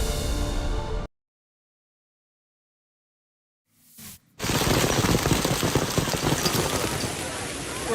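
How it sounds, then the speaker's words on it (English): Golf ball-sized hail pounds a concert venue near Denver, Colorado: after a second of loud noise and then near silence, a dense, roaring clatter of hailstones bursts in and continues steadily and loudly to the end. "This sudden, hard-punching hailstorm struck a concert venue near Denver, Colorado"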